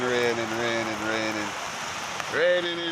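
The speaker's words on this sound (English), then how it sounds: "Yeah, it's raining, you know." Steady rain hisses in the background on a New York City street while someone talks over it, the patter constant and close throughout.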